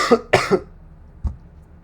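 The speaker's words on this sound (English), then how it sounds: "have a really bad cough right now" A quick burst of three close coughs, then a brief pause and one softer cough.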